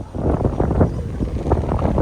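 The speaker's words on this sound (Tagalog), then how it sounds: "Mahangin, no? Malamig yung hangin dito." Wind blows at a summer beach and buffets the microphone in an uneven, roaring low rush, with soft gusts rising and falling throughout.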